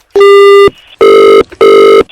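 A telephone rings loudly in three electronic bursts separated by short gaps, clear and close with no voices.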